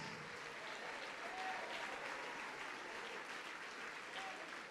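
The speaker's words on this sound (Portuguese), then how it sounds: "vamos aplaudir mais." Worshippers in a church keep up sustained applause, many hands clapping in a steady, distant wash that stays faint and even without a break.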